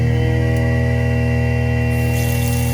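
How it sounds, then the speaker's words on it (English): A steady, loud mechanical hum with strong tonal drone runs without pause, like a garbage disposal motor grinding continuously. "the garbage disposal starts right up"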